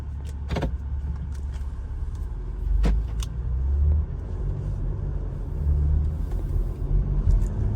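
2018 Porsche Macan GTS SUV driving, heard from inside as a steady low engine and road rumble that swells and eases, with occasional light clicks and rattles in the cabin, no voices.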